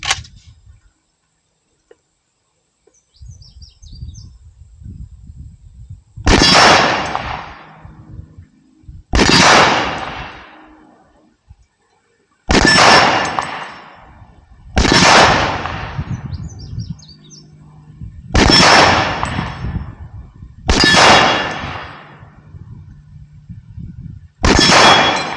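Seven sharp, loud gunshots from an International Harvester M1 Garand rifle ring out at a target, spaced a few seconds apart, each with a ringing decay, the last followed by the metallic ping of the ejected empty clip.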